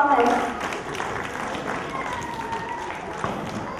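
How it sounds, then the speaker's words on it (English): Audience applause at a playschool day celebration after a children's skit, a broad steady patter of clapping that is loudest at the start and then carries on at an even level. "Loud round of applause one more time for the wonderful performance."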